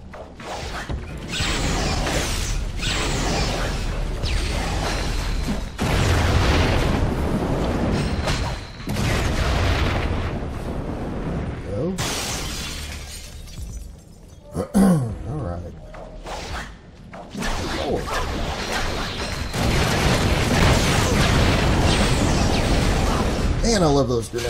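Grenade explosions in Marvel Heroes 2015: repeated loud booms and bursts over continuous combat noise, with a voice talking over much of the action.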